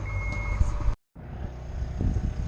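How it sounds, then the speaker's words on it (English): Repeated electronic alarm beeps from a yarder logging machine fitted with a new cab, over engine rumble, broken by a brief dropout. "Beeping like crazy."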